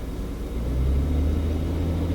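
A naturally aspirated car engine is given gas, its low rumble swelling into a brief rev and holding at a raised idle, close and loud with no voices.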